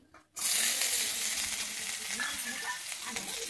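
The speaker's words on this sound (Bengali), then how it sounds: "আমি এবারে একে একে সবজিগুলোকে ভেজে নেব।" Carrot drops into hot oil for a vegetarian Bengali moong dal, and after a brief quiet moment a loud sizzle erupts and settles into a steady, close frying crackle that lasts to the end.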